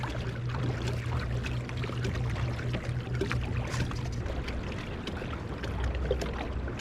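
Quiet, continuous gurgling and sloshing of water coming up through the scupper holes of a kayak with a Torqeedo 1103 motor, a soft trickling burble that runs throughout without talk.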